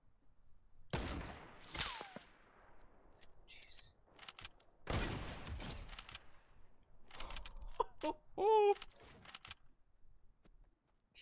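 Gunfire in a Fortnite match with a one-shot game mode: several loud, sharp broadband bursts crack out near 1 s, 2 s and 5 s with a cluster of smaller impacts late on, amid quieter game noise.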